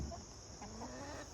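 Hens in a chicken tractor give a few soft, scattered clucks, faint and low against a steady background hiss.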